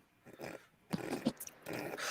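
A dog gives two small, quick barks, faint and somewhat distant, with quiet rustling between them.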